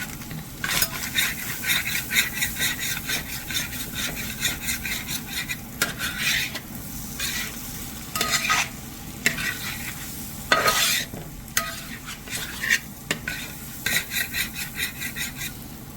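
Beef liver fry with masala stirred in a pan, with a steady sizzle under repeated scraping and clinking strokes of a spoon against the metal, close and moderately loud throughout.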